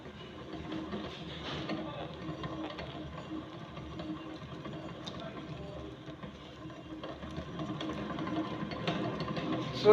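A stand mixer gently kneads bread dough with a continuous mechanical whir and rattle, close and moderately loud, while a voice talks over it.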